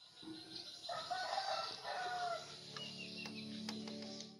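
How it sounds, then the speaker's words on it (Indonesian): Morning outdoor bird ambience with a rooster crowing and hens clucking, fairly close and steady, with a few sharp chirps near the end and no talking. "misal sound effect ambience suara burung pagi-pagi"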